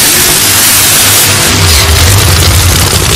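A drag racing funny car engine roaring loud and close at a drag racing qualifying round, a constant heavy rumbling drone that swells as it revs, with no voices heard.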